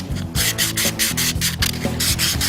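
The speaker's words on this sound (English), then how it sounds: "So typically what you do is get in there with your hands and you'd hand sand that." Hand sanding by fingers into the concave crevices of a Tri-5 Chevy body panel gives close, loud, rhythmic scrubbing strokes, about eight quick back-and-forth rubs in a steady pattern.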